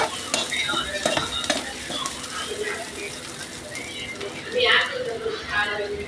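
Ginger-garlic paste sautés in oil for a potato stir-fry, a steady broadband sizzle with scraping stir strokes near the pan, and a brief louder swell of frying near the end.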